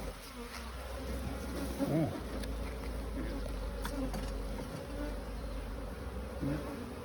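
Honeybees buzzing steadily around an open beehive during an inspection, a soft continuous drone with a few louder passes near the listener, over a low background rumble.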